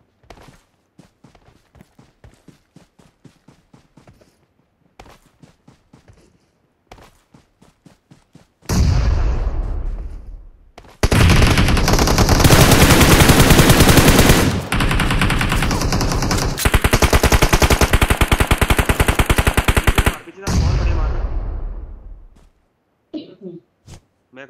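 Machine gun and rifle fire in the BGMI mobile battle game, scattered single shots at first, then long loud sustained bursts of automatic fire that stop abruptly, followed by a few more shots.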